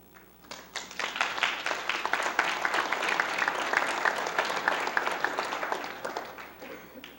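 An audience claps at a poetry reading held as part of a public library series. The applause swells quickly, holds dense and even for about five seconds, then thins out and fades away.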